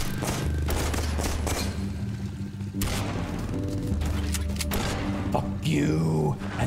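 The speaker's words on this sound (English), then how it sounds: "machine gun you blasted" Machine gun fire in the video game Laika, a dense, continuous barrage of rapid gunshots and booms under a layered game soundtrack, loud throughout with brief swells.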